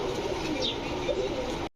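Pigeons, including a female, coo softly in a brief close burst over steady background noise, ending in a sudden cut.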